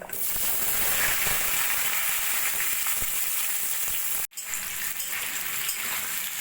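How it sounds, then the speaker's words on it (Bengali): Chunks of pumpkin, potato and sweet potato frying in hot oil give a loud, steady, hissing sizzle that continues evenly, broken only by a brief drop to silence near the end before resuming. "সবজিগুলো হালকা সোনালি করে ভেজে নিয়ে"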